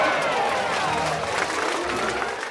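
A crowd in the stands at a horse race breaks into steady, dense applause that carries on without pause for a few seconds, with a faint murmur of voices beneath it.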